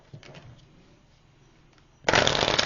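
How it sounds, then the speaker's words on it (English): A loud burst of tarot cards being shuffled, a quick riffling flutter near the end after a quiet lead-in with faint handling noises. "And get another shuffle."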